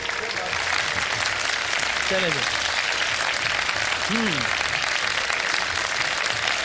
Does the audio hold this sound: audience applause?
yes